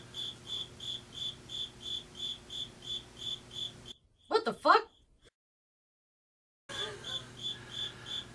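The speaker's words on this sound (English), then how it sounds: "Real loud cricket. There is a cricket in here." A loud cricket chirps indoors in a bar with a regular, pulsing rhythm. The chirping breaks off for a short exclaimed remark and a silence, then resumes.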